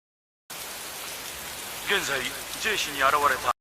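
Heavy rain pours steadily over an animated battlefield as a dense, constant hiss, and a voice speaks over it.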